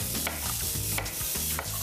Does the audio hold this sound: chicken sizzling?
yes